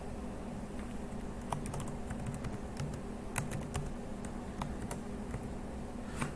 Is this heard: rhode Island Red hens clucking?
no